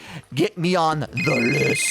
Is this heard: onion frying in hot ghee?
no